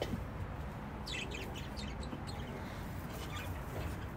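Birds chirp outdoors beside a garden where bitter melon is being harvested. A quick cluster of faint, high tweets comes in the middle, with a few softer calls later, over a steady background hiss.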